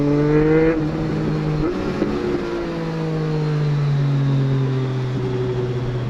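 Triumph Street Triple RS motorcycle engine while riding on the road, a steady humming drone with smooth pitch shifts as revs rise and fall, close and continuous with wind noise, no talk.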